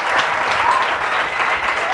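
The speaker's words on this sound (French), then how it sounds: "On applaudit." Steady applause from an audience, dense and continuous clapping filling the whole moment without a break.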